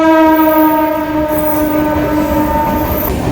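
A train rolls past a closed railway level crossing on the way to Mayapur, a steady loud rumble with a sustained horn blast whose layered tones hold throughout, close and continuous with no talk.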